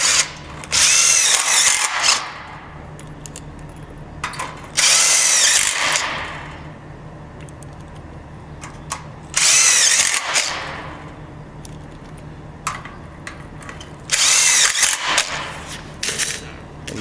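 A power drill drives screws into a steel stud overhang in four loud bursts of about a second and a half each, separated by quieter gaps of rattling and handling.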